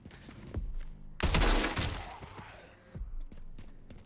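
A weapon in Resident Evil Requiem fires one heavy, close blast that rings out and decays over a second or so, surrounded by lighter thumps and clicks.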